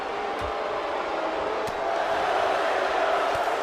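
Wrestling arena crowd in WWE 2K19 during a tag-team match, a steady broadband roar of many voices that swells slightly in the second half, continuous and fairly loud with no clear speech over it.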